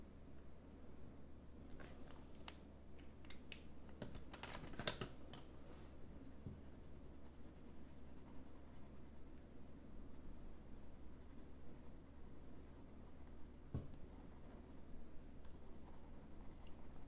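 Pen and acrylic markers scratch and tap across paper in quiet, irregular strokes, with a cluster of sharper marks early on over a faint steady hum.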